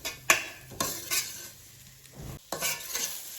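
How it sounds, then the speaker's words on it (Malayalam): Chicken masala with bird's eye chilli sautéing in a pan on medium flame: quick spatula scrapes and clinks against the pan over a gentle sizzle, close by, in short bursts with brief pauses and no speech. "ഇനി നമുക്ക് മസാലയുടെ പച്ചമണമൊക്കെ ഒന്ന് മാറുന്നത് വരെ ഒന്ന് നന്നായിട്ടൊന്ന് വഴറ്റിയെടുക്കാം"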